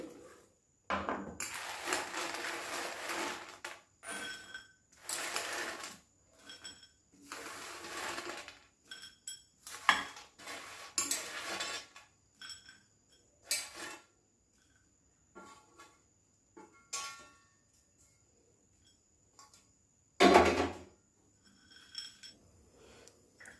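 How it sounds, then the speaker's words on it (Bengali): A homemade tutti frutti mixture being stirred in a bowl, heard as irregular bursts of scraping and clinking that come and go, separated by quiet gaps, with no talk. "এখন আমি সব মিশিয়ে দেবো।"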